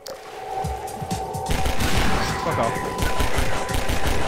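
Rapid bursts of gunfire from a weapon in the video game Half-Life 2, loud and sustained in fast repeated volleys, with someone briefly talking over the shooting.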